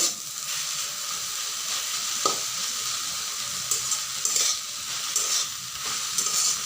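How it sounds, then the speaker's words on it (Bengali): Water spinach (kalmi shak) stir-frying in a pan, a steady sizzle broken by scattered light scrapes and clicks of stirring, close and moderately loud, with no voices. "এবারে নাড়াচাড়া করে ভাজতে হবে হালকা আছে"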